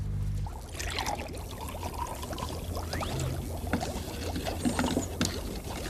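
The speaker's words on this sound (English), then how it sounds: "Pour some vinegar into the smaller container." Vinegar is poured into a small container during a baking soda and vinegar chemical reaction demonstration. A steady liquid trickle and splash runs throughout at moderate, close level, with faint background noise and no talking.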